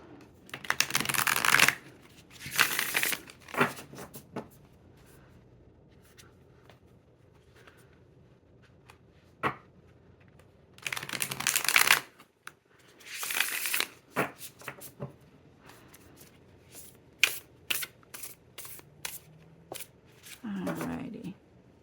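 A tarot deck being shuffled in several bursts of riffling, flicking card noise separated by quiet pauses, close and fairly crisp, with a few soft taps and a brief voice near the end.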